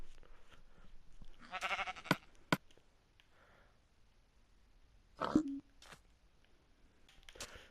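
Minecraft sheep bleat in short bursts, one brief cry near the start and another a few seconds later, with quieter game sounds between; no one talks.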